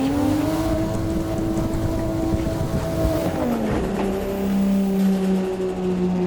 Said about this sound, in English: mix a clutch dump with flicking your wheel, and that upsets the balance of the car so that your rear wheels can lose grip